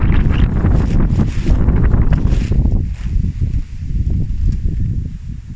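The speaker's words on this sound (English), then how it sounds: "No point talking when the wind's blowing." Strong wind buffets the microphone outdoors in a garden, roaring loud and gusty for the first few seconds, then easing into a lower, rumbling flutter.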